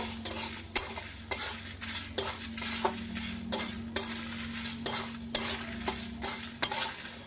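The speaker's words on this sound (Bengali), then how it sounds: "সবকিছু দিয়ে নিয়ে ভালো করে নাড়াচাড়া করব" A spoon stirs and scrapes raw mango pickle with salt and fennel seeds in a bowl, making a steady series of close scraping strokes and clinks with no talk.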